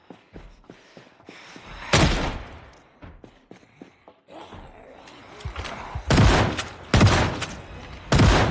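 Shotgun blasts in the video game Project Zomboid, four loud booming shots spaced apart, the last three close together, between quieter thumps and clicks.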